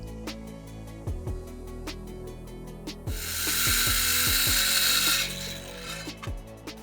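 A wooden bench board made of ordinary lumber is sawn in half, giving a loud steady rasping cut of about two seconds, with sharp knocks and clatter from handling the wood before and after.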